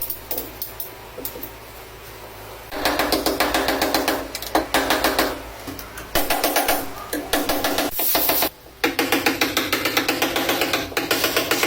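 Repeated hammer knocks on a Tesla electric car's body panel during dent repair, coming in fast rhythmic bursts of sharp metallic taps with brief pauses, close and loud.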